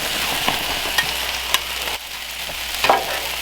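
Jasmine fried rice being mixed on a Blackstone griddle, a steady close sizzle with occasional scrapes of the spatula and a brief dip midway, no talking.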